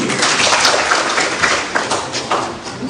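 Sustained applause fills the hall at a People's Assembly political rally in Kano, dense clapping from a large crowd with uneven swells and a few louder bursts.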